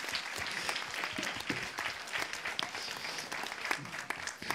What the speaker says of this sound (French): On l'applaudit, Thomas.